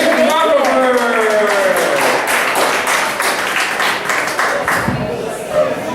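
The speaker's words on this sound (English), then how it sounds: "Keep that applause going, give it up for Raraver." Audience applause at a poetry open mic at Churchills in Flint, Michigan: a loud, dense burst of clapping that starts under a speaking voice and continues steadily to the end.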